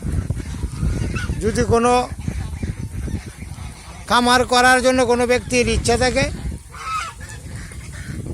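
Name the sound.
ducks quacking on a duck farm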